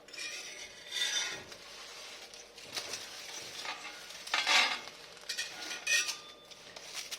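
Pork pieces roasting with banana and turmeric leaves are stirred in a pan, giving a soft continuous sizzle with intermittent scraping and clinking bursts of the utensil against the metal, close and moderately quiet.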